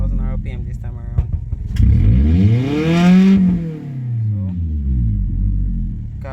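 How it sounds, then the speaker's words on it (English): Car engine revved after a catalyst repair, climbing from idle in one long rising sweep to a high peak, then falling back. Speech is heard at the start. "Now this is the car after warm up. I want to show you guys how it revs now."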